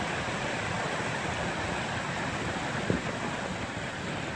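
Rainwater from a Los Angeles storm drain duct pours like a waterfall into the Pacific Ocean at Santa Monica, a dense, steady roar of rushing water with one brief knock.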